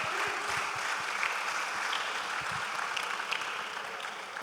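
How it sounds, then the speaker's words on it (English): Applause at the Tema International School IB Class of 2021 virtual graduation ceremony, a steady wash of clapping from an audience, moderately loud and continuous, with no talk. "Please let's give him a huge round of applause."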